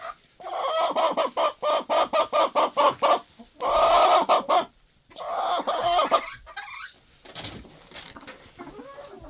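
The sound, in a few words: hungry chickens clucking in the coop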